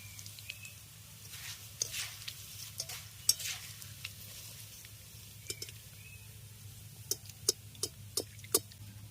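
Flattened rice (chira) frying in oil in a pan gives a soft, low sizzle broken by sharp ticks and scrapes as it is stirred, with no one talking.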